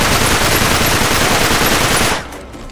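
Dense, loud automatic gunfire aimed at the player in the video game Uncharted 3, a continuous rapid burst that fills the scene and then cuts off abruptly near the end.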